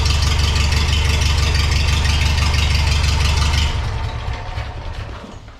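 Farmall H tractor engine idling through an aftermarket muffler louder than the stock one, a loud, deep, steady chugging putter close by that winds down and fades toward the end.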